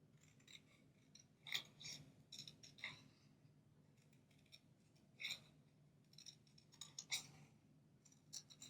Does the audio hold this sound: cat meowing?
no